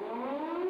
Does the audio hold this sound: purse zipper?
no